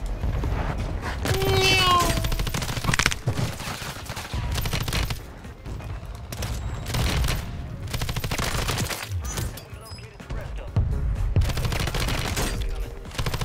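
Kastov LSW light machine gun in a video game, firing in long sustained automatic bursts with brief pauses between them, loud and dense throughout.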